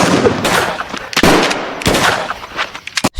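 Gunfire erupts in a film shootout: loud, close bursts of shots with several sharp impacts and rapid volleys, separated by brief pauses and ending in a quick flurry of cracks.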